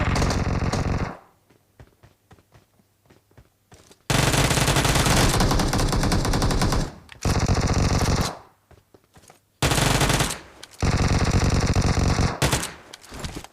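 Automatic gunfire in the mobile battle royale game PUBG Mobile, long loud rattling bursts separated by short quiet gaps, with a few faint single shots between bursts.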